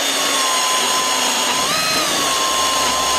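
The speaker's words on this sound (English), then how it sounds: "So that's the hole drilled." A power drill runs continuously with a loud, steady high-pitched whine, the motor pitch wavering slightly as it bores a roughly 19 mm hole through soft material on a DIY race car.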